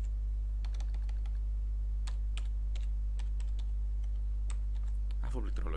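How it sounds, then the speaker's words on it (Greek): Password being typed on a computer keyboard, a quick irregular run of sharp key clicks over a steady low hum, close by, with a busier burst of keystrokes at the end. "Αφού πληκτρολογήσαμε και το κωδικό μας"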